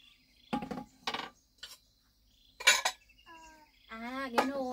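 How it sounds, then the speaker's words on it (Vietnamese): Bowls being set upside down on a bamboo shelf, giving a few separate clinks and clatters spaced out, close and fairly clear, with a voice and a child's sounds in between. "mẹ úp bát ở đây"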